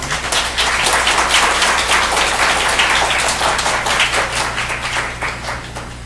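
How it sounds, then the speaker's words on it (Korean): Church congregation applauds to welcome a guest, a loud, dense clapping that holds steady for several seconds over a low hum before easing slightly. "우리 박수로 우리 환영하도록 하겠습니다."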